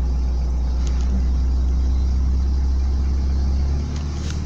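VW Gol Quadrado engine revved with the accelerator pedal, a steady low rumble with a raised idle that holds evenly, then eases off near the end; no talking.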